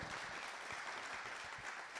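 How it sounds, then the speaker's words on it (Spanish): A church congregation claps together in dense, steady applause that fills the room at a moderate distance. "Do you think we could give the Lord a hand together?"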